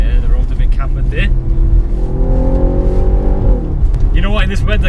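An Audi RS4 accelerating hard along a cambered road in wet weather, its engine note rising in a steady climbing drone mixed with road and wind noise, sounding from inside the car, with people talking at the start and end.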